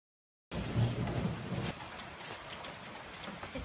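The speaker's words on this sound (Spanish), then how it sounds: "Está lloviendo" Summer rain falls on a vegetable garden in Santiago, Chile, a dense, close hiss of drops that starts abruptly and softens slightly after a moment but keeps going steadily.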